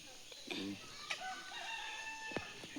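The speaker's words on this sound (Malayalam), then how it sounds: "പശു അല്ല, കോഴി." A rooster crows at a distance, faint under quiet outdoor ambience around a family home, with a few other bird calls and chirps nearby.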